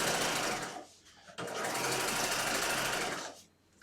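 A sewing machine stitching bias facing onto a skirt hem, running in two close bursts with a brief pause between, fairly quiet and alone.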